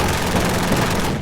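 A GAU-19 Gatling gun, a General Electric crew-served weapon first built in 1983 and rated at up to 2,000 rounds a minute, fires one loud, continuous burst that lasts the whole moment and cuts off abruptly at the end.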